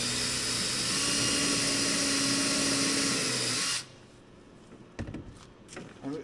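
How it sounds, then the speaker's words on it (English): A power drill with a step bit cutting holes for mud flaps on a Trail Rider 570, whining loud and steady before stopping abruptly, followed by quieter clatter and handling noises. "I'm going to drill, if I drill these right where the holes are"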